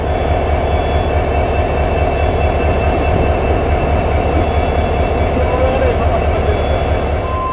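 A train crosses the Pamban Bridge at sea on the Rameshwaram to Chennai run, a loud, steady rumble of wheels and carriages with a high metallic whine held throughout.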